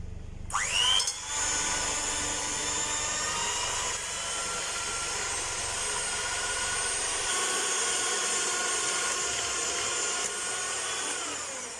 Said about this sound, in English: I'm going to give this a little beat with my machine so it's nice and fluffy